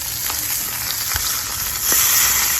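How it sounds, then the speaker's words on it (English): Salmon sears in a cast iron pan over full high heat, a loud continuous sizzle with a few crackles, swelling louder near the end. "Let me see how I'll take the edge of that salmon and sear it."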